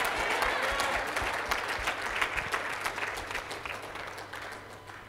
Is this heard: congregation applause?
yes